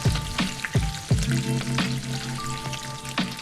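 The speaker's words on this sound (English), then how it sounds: "you're just going to want to let them fry for a minute" Birria tacos fry in hot oil with a steady, close crackling sizzle, punctuated by a few louder thumps and pops as they shift in the pan; no one speaks.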